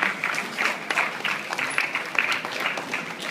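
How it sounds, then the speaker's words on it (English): Students at an entrepreneurship talk clap for themselves, a dense, sustained round of applause from a large room at moderate volume with no talk over it. "give a huge round of applause to yourself"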